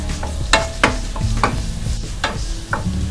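Chopped garlic and ginger sautéing in a hot pan: a constant close sizzle broken by several sharp spatula scrapes and taps against the metal, with no voices.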